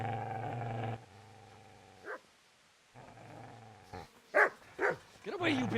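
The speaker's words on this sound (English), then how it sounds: "Get away, you mutt!" Dog growling in the medieval RPG Kingdom Come: Deliverance, a sustained low snarl that cuts off, followed after a pause by several sharp barks and yips, loud and close.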